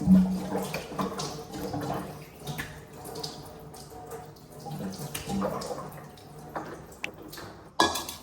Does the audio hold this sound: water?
yes